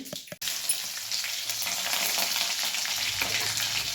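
After a brief knock, garlic sizzles loudly in hot oil, a dense, steady crackling hiss that continues without pause.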